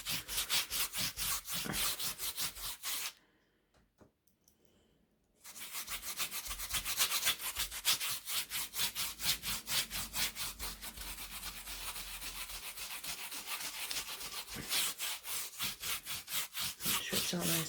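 Mod Podge sealer is rubbed firmly into a surface, giving a continuous rhythmic scrubbing with quick strokes, close and fairly loud, broken once by a short pause.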